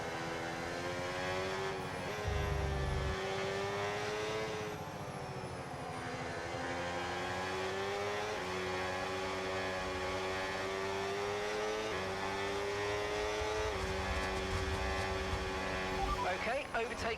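A Formula 1 race car engine in a video game at the Japan circuit screams at high revs with overtake mode engaged, the pitch rising and dropping through gear shifts, loud and continuous under a commentator's voice.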